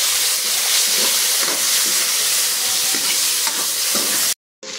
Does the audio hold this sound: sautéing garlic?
yes